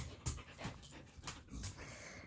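A dog breathes in quick, close panting bursts with small whimpering sounds, indoors among other playful dogs; no one speaks.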